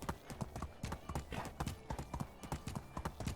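A horse's hooves clip-clop in a steady, quick rhythm in the medieval video game Medieval Dynasty, close but fairly quiet, with faint voices now and then.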